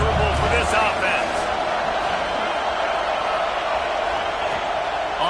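Steady stadium crowd roar from a college football video game featuring Georgia, a dense continuous wash of noise that holds at an even level throughout, with voices faintly mixed in.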